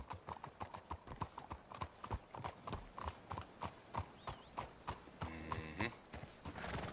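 Horse hooves clip-clop in a steady rhythm in the Red Dead Redemption 2 video game, close and distinct, with a brief whinny partway through.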